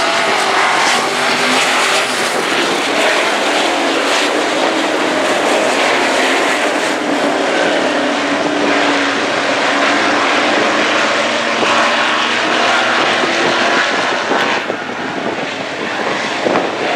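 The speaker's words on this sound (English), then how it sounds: "Steve Stevenson driving at number 8." Modified race cars from a Mountain State Mod Tour race at Big Sky Speedway roar around the oval in a loud, continuous, dense engine drone that stays close and steady throughout, with no talk over it.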